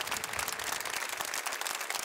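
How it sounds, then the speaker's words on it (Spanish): Applause from a crowd ends a minute of silence held for victims, a dense, steady patter of many hands clapping at moderate distance with no voices. "Un silencio que solo se ha roto con aplausos."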